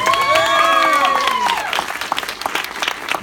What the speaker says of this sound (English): We're going to do a classic game show style applause meter.